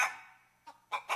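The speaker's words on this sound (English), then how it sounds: "He's an angry little chicken." An angry chicken clucking sound effect, loud and close: a sharp squawk fades out, then a short cluck and two quick harsh bursts follow, with no talking.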